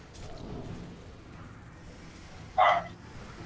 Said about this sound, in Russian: Я слышу, кто-то гавкает